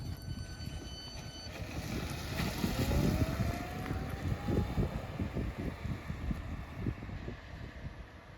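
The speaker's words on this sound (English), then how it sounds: "we're gonna see my dad drive the Triumph Spitfire down the road" A 1980 Triumph Spitfire drives along a road outdoors, its engine a steady low rumble with wind noise, rising and passing at moderate distance with a brief pitch sweep mid-way, then continuing unevenly.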